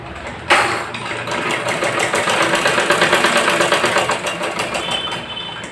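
A sewing machine fitted with a double foot stitches a side chain onto ladies' pants, running close and loud in a steady, rapid rhythmic chatter for several seconds after a sharp start.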